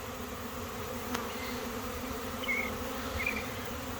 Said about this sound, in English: Sometimes late fall swarms are not gonna stay, no matter what the heck you do.